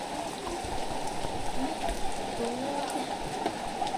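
Steady rain falls over a rural village deep in the forest of Laos, a continuous broadband hiss of drops on surfaces with faint voices murmuring underneath.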